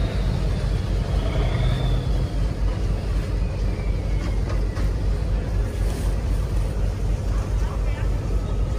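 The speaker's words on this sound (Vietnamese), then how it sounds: "Tàu nhựa vô nữa các bạn" A plastic fishing boat from a purse-seine fleet comes into port, its steady low engine rumble continuous and fairly loud over water and wind noise, with people talking nearby.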